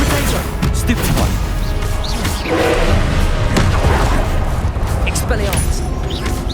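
Spell blasts and crashing impacts from combat in Hogwarts Legacy on PS5, a dense run of booms and thuds over a busy game soundscape, with a player shouting throughout.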